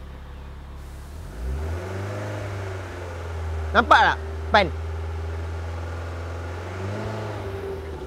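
A car engine revving as the accelerator is pressed: a steady idle hum climbs in pitch, holds high for a few seconds, then eases back down, while someone talks over it.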